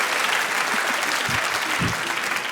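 A studio audience breaks into steady applause, a dense wash of clapping that fills the whole moment at fairly close range, with a couple of low thumps mixed in and no talking over it.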